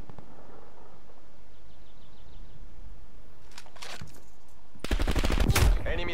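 A sentry turret in a video game fires rapid automatic bursts, at first faint and then a loud close volley near the end, over a low background hum.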